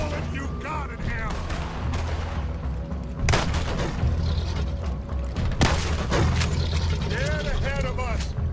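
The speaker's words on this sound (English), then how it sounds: "Put every bullet you got in him!" Gunfire in a Red Dead Redemption 2 cutscene, with sharp shots bursting out at intervals amid clanking mechanical noise and a dense, busy game mix, loud and close under music and voices.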